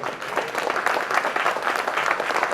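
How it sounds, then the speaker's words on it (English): A workshop audience breaks into applause, a dense continuous patter of many hands clapping at moderate volume, steady for a couple of seconds with no speech over it. "You can say applause."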